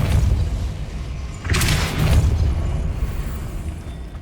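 A Depulso force spell cast in Hogwarts Legacy on PC, a single loud whooshing burst with a low thump that swells and fades over a couple of seconds against steady ambient rumble.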